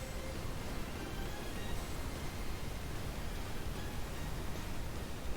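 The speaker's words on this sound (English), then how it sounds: "it's just a dehumidifier going in the background." A dehumidifier runs in the background as a steady, quiet broadband hiss and hum, flat and unchanging throughout, with no voices over it.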